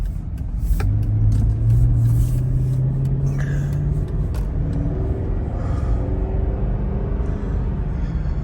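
A Mercedes SL500 R230 accelerates while driving in cold weather, its V8 rumble climbing steadily in pitch through a gear, close and loud inside the cabin with no talk over it.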